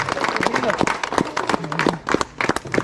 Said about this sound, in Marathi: टाळ्या द्या